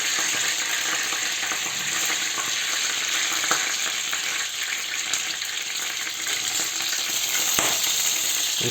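Chicken pieces frying in hot oil for a chicken and seafood paella, a steady dense sizzle and crackle running loud and close throughout with no voices.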